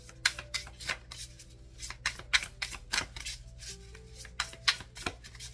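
Tarot cards shuffled close up in a steady run of crisp riffling bursts, about a dozen quick papery flutters with short gaps between, no voices.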